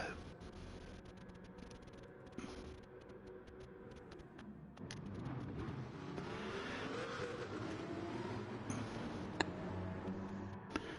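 GR1 race cars in a racing video game pull away from the grid together, a swelling roar of engines building after a quieter opening, with occasional sharp clicks and no voices.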